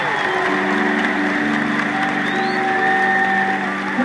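Audience at a worship and praise concert in the Auditorio Nacional applauding loudly and steadily, a dense wash of claps with sustained keyboard or organ chords ringing underneath throughout.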